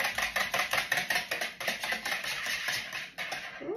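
A silicone spatula mixes lobster bisque terrine in a Tupperware dish for microwave cooking, giving a run of close, rhythmic soft scraping and wet stirring strokes with no voices.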